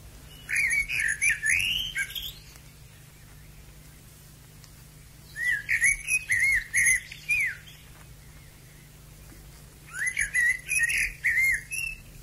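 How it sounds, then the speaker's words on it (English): A common English blackbird sings in three separate bursts of clear, fluting warbled phrases, with quiet pauses between them over a faint steady hum. "Blackbird. Song."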